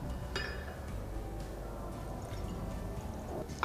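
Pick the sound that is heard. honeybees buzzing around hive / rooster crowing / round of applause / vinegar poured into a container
vinegar poured into a container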